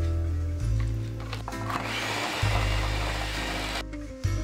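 An electric mixer drones steadily, beating an egg into a creamy gingerbread cookie dough, its motor pitch dipping and rising briefly a few times.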